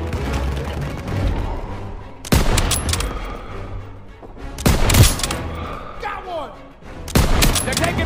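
Bursts of rifle and machine-gun fire in the World War II shooter Call of Duty WW2, loud volleys and sharp cracks recurring every couple of seconds over rumbling battlefield ambience, with shouted voices in between.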